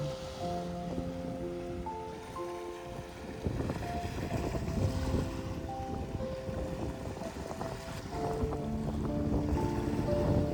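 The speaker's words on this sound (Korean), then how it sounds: "파도는 쉼없이 밀려왔다가 다시 바다로 돌아갑니다" Ocean waves on the Jeju shore wash in and draw back in a steady, rushing wash of surf with some wind noise, heard beneath a soft layer of sustained music tones.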